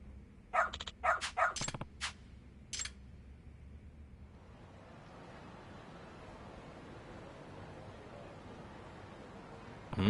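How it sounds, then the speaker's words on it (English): A dog barks in a short burst of several quick barks near the start of a Lost Judgment game scene, then the barking stops and a steady ambient hiss and low rumble carries on to the end. "Good dog. Very good dog."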